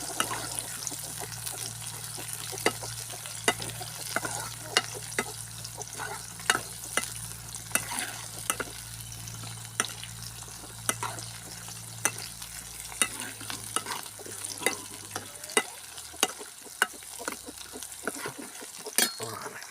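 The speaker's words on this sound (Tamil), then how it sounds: "அப்படியே வதக்கி குழம்புக்குள்ள தூக்கி ஊற்றிடும்" Sautéed shallots are poured into a pot of sambar, setting off a loud, close sizzle with clinks and stirring scrapes that fades toward the end.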